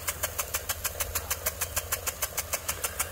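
An old impact lawn sprinkler runs with a worn nozzle and its stream straightener removed, ticking in a fast, steady rhythm of sharp, evenly spaced clicks over a low background rumble, close by and moderately loud, with no talk.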